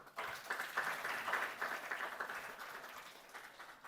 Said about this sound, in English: Can we all take a moment to give ourselves a big round of applause for being a part of this inspiring event?